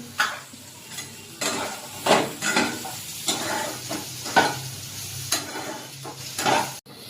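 Chowmein vegetables with chilli and cucumber are stir-fried in a pan, heard as rhythmic spatula scrapes and clacks against the metal over a soft sizzle. The strokes are close, with a sharp knock near the end.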